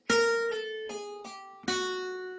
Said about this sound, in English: those are all little pull-offs